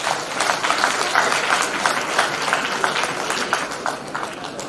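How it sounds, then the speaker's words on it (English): A crowd of students and guests claps at an Indian Army national quiz prize ceremony, a dense, even burst of applause that holds steady for several seconds, fairly close and loud. "A big round of applause, please"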